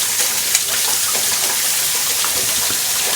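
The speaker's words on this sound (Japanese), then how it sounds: "水を入れます。" About two liters of water pour into a stock pot in a continuous, close, loud rushing splash that holds steady throughout, with no voices.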